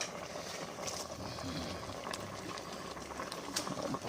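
A pot of liquid boiling during cooking, a steady low bubbling and churning with faint clinks, with people talking over it.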